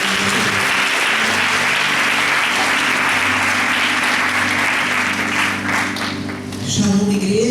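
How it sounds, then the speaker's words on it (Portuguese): A church congregation applauds together in steady, dense clapping that fills the room, with a low sustained musical tone underneath and a slight dip and swell near the end. "Vamos aplaudir a Jesus."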